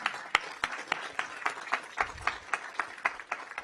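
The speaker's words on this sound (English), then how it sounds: "Please give them all a round of applause" Light, rhythmic clapping from a small group at a council session, with individual claps landing at an even beat in a quiet room.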